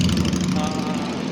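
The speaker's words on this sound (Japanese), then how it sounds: "車の音とバイクの音で" Car and motorbike traffic in a congested street in central Kuala Lumpur, a steady close rumble of idling and moving engines with no pause.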